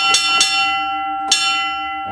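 A gold mine's hoist signal bell rings out a 3-1 code: three sharp, ringing strikes in quick succession, then a pause and one more strike, each leaving a bright metallic tone that fades.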